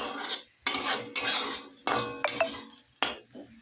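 Fried potatoes being scooped out of a pan with a metal spatula, several distinct scraping clanks and clinks separated by short gaps, close and fairly loud over a faint background sizzle, no talking.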